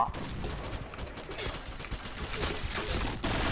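Rapid gunfire from an AUG A3 Samurai assault rifle in the online shooter Point Blank, a dense, continuous loud rattle of shots with impact noises throughout, no pauses.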